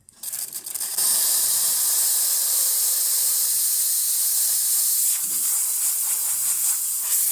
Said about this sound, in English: That's just the steam